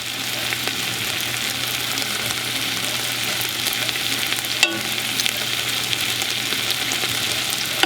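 Chicken fries in a pot with allspice, cumin and turmeric while it is stirred, giving a steady close sizzle with faint scraping and one sharp clink midway.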